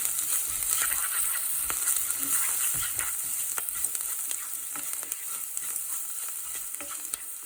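Spice powders, coriander and black pepper among them, being stirred through a little hot oil for rasam: a steady close sizzle with scraping spoon strokes, no talking.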